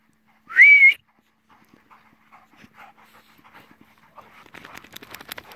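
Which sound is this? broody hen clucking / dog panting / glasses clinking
dog panting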